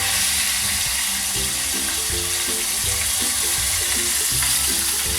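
Popcorn chicken deep frying in hot oil gives a loud, dense, continuous sizzle and crackle with no talking.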